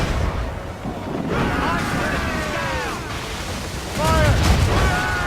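Ship cannon fire in Assassin's Creed Rogue, booming naval broadsides under wind and sea noise, with crew voices shouting over the sustained rumble and a renewed burst of fire near the end.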